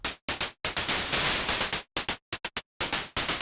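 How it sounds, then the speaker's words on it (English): Plain white noise from the noise layer of a hi-hat synth patch built in Bitwig's Grid, chopped into uneven bursts of hiss with abrupt silent gaps between them, steady and moderately loud. "this is now just white noise"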